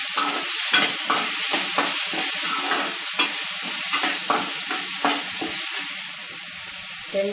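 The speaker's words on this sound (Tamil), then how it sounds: "வெங்காயம் வதங்கும் போதே உப்பு சேர்த்துட்டோம்னா வெங்காயம் சீக்கிரமாக வதங்கிடும்" Onions sautéing in a pan for Bombay chutney give a steady, close sizzle, with repeated scraping strokes of a spatula throughout and no voices.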